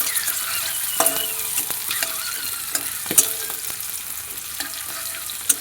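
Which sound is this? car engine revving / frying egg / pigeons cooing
frying egg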